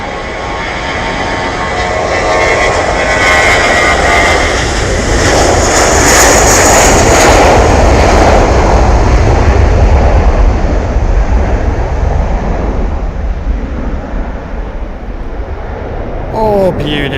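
Jet airliner engines at full takeoff power on runway 23 right at Manchester, a loud, sustained roar that holds steady for the whole stretch, close and dominant with a rising whine, heard from beside the airfield.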